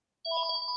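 A mobile phone rings with a steady electronic ringtone, clear tonal bands sustained after a sudden start, close and fairly loud with no talking over it.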